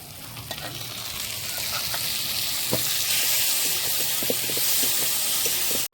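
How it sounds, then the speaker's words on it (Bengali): Potatoes and onions sizzle steadily while frying in oil in a pan, a dense continuous hiss with occasional small stirring clicks, close and constant throughout. "আলু পেঁয়াজটা খানিকটা ভাজা হয়ে যাবে তারপরে তেলটা দেবো"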